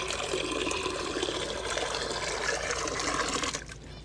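Water poured into bird water bowls, a steady continuous splashing and trickling stream that runs loud and close for several seconds, then cuts off near the end.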